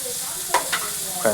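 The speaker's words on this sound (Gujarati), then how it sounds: "હવે હલાવો હલાવો હલાવો" Maggi noodles with tomatoes are stirred in a pan, a soft sizzle running underneath as three short scraping clicks of the spoon stand out close by.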